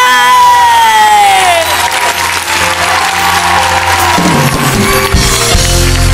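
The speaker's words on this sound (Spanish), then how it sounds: "para quien pida el aplauso de ustedes" A studio audience at a Sunday television show applauds and cheers loudly for a singer being introduced, dense sustained clapping with whoops, and a fading musical tone at the start.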